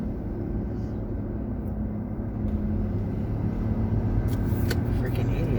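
A car rolls past near a harbor-side street, a steady low rumble of engine and road noise that swells slightly toward the end, with wind buffeting in the background.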